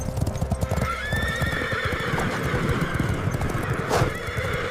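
Cavalry horses in a battle scene depicting the Battle of Ankara, 1402: a dense, continuous clatter of hooves pounds close by, with whinnies rising above the galloping throughout.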